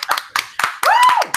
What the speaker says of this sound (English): We was over here clapping for you and everything.